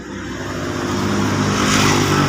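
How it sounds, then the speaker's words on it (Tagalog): Nissan Urban TD27 diesel engine idling with an overheating fault, a steady close mechanical drone that swells slightly louder toward the end, no talk. "Nissan Urban TD27 makina."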